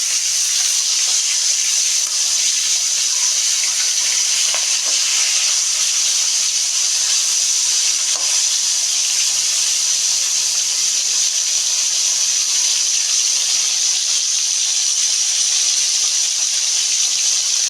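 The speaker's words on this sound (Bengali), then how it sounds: "দেখো এইভাবে ভেজে নেবো ইলিশ মাছের মাথা" Continuous bright hiss of hilsa fish heads frying in oil, steady and fairly loud throughout with no talking.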